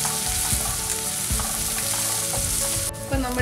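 Ginger, garlic, green chilies and curry leaves fry loudly in hot oil, a steady dense sizzle with a few sharper crackles and stirring scrapes, no voices.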